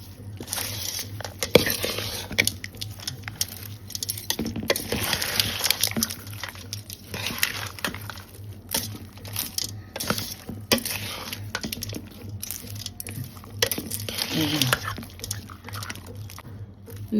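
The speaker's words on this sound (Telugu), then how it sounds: "చింతపండు పులిహార కలిపేసాను." Tamarind rice (pulihora) being mixed by hand, with soft, wet squishing and patting sounds repeating steadily at close range, while voices talk intermittently over them.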